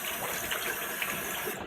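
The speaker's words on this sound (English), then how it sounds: "I guess it'd help if I unplugged the soap and let some of the water drain out" Water draining from an unplugged bathroom sink after a shave, a steady close gurgling rush heard alone and cutting off at the end.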